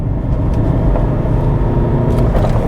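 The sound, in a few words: Lexus IS engine revving at full throttle in second gear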